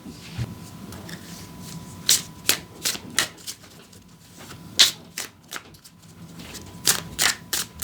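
Tarot cards shuffled and drawn during a reading: a sequence of crisp riffling flicks and sharp card snaps, irregularly spaced with short pauses between bursts, close and fairly quiet with no talking.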